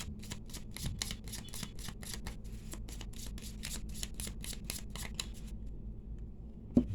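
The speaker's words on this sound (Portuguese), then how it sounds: "embaralhei aqui, cortando um monte" A deck of tarot cards is shuffled in a rapid series of crisp riffling flicks for about six seconds, close and fairly quiet over a low steady hum, then stops with a single soft tap.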